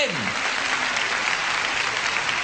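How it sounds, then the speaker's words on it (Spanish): A church congregation applauding during a sermon, loud, dense and sustained clapping from a large crowd, with a fading tone from the sound system at the very start. "Aplaudan al Señor"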